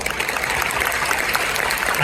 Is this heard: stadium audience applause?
yes